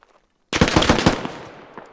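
Rapid automatic gunfire in the military shooter game Squad bursts in after a near-silent start, a dense volley of close shots that trails off into scattered echoes.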